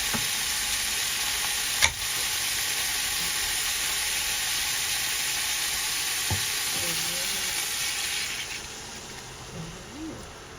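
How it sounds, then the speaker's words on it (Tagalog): Coconut milk goes into a pan of sautéed beans and squash for a Filipino ginataan dish with crab. A steady, close frying hiss softens and quiets toward the end, with a few soft clinks. "Lalagay ko na ang gata."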